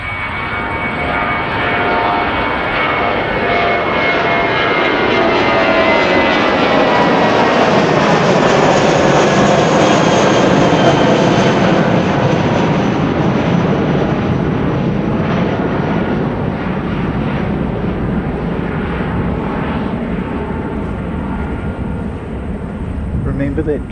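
Fixed-wing aircraft approaching and passing at an airport during plane spotting, a loud sustained engine roar that swells to a peak midway and slowly fades, with no voices.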